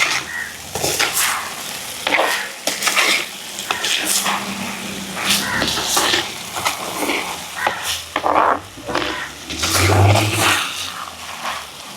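Prawn and raw mango curry being stirred in a pan, with a steady sizzle and scraping strokes throughout, plus occasional louder clatters from the spoon against the pan.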